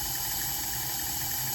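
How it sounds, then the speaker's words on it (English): Low idling engine hum from the sound unit of a Type 97 WW2 radio-controlled model tank, steady and droning with a buzzy electronic tone, heard alone at moderate level. "An engine sound."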